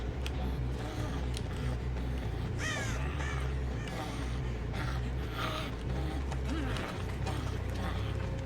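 Crows cawing near a game of shots, repeated harsh calls over a steady low rumble and background noise, with some voices faintly present.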